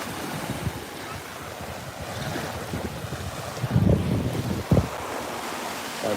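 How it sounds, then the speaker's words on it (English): Strong wind roars across the microphone with a steady, broad rumble, blending with the wash of waves and brief gusty bursts. "I mean, it feels pretty windy."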